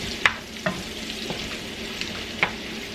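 Bacon fries in a pan and gets stirred, a soft steady sizzle broken by several sharp scraping clicks of the utensil at irregular intervals, close and clear with no voices.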